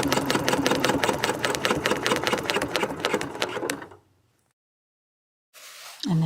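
A sewing machine runs a rapid, steady burst of small stitches around a quilting template for about four seconds, then stops abruptly, leaving near silence before a brief rustle at the end.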